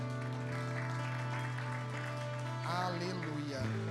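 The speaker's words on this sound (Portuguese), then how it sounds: "Você pode aplaudir o Senhor?" A church congregation claps together, a dense patter that runs steadily beneath sustained keyboard chords, with a voice rising briefly near the end.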